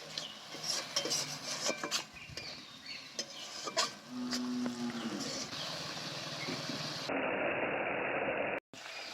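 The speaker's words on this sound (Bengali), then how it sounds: "এবার আমি মশলা ধোয়া জলটা দিয়ে ভালো করে মশলাটা কষে নেব" A spice paste for sorshe potol is stirred and fried with the water used to rinse the spices, in a pan. Steady scraping and sizzling run throughout with a brief hum, then settle into a continuous hiss.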